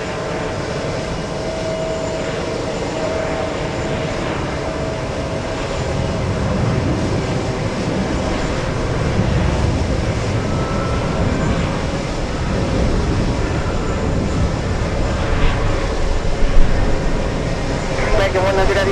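An airliner taking off from runway 22 right at JFK airport, a loud continuous engine roar that swells gradually and holds steady throughout.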